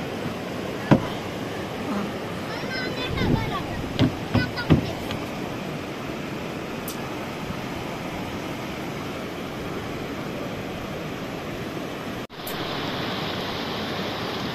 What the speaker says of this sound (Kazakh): Сайрам өзен.